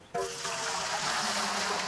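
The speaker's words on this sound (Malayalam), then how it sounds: "നമുക്കൊരു 5 ലിറ്റർ വെള്ളം പാത്രത്തിൽ ഒഴിച്ചു കൊടുക്കാം" About five litres of water poured into a large cooking pot for making Calicut halwa, a sudden close gush that starts abruptly and runs steadily to the end.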